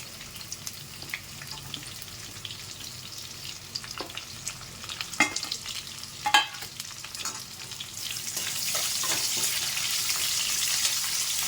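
Onions frying in a pan for a quick potato rice dish, with a steady sizzle, occasional stirring clatters and a louder, brighter hiss building toward the end, up close and without talk.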